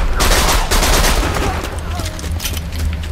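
Rapid bursts of SMG fire from Borderlands 2, an electric-element gun, crackle through a loud, dense game soundscape, with continuous shooting and impacts filling the whole stretch.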